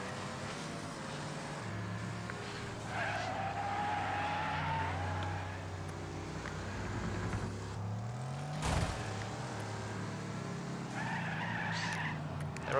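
Car braking and skidding in the racing game Wreckfest, a steady engine drone with tire squeal that rises in two stretches, a sharp impact in between and no talk.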